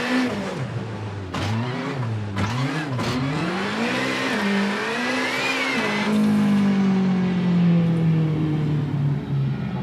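A Ford Fiesta R5 rally car in the WRC 7 racing game on an Australian stage. Its engine revs loudly and rises and falls through quick gear changes, then settles into a long, steady, falling drone, heard up close with no talk.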